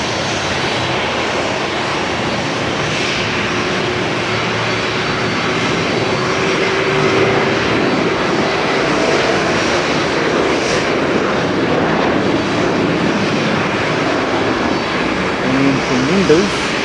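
A DHL Boeing 717 jet at Haneda Airport, its engine roar steady and fairly loud, swelling slightly toward the end over broadband airport ambience.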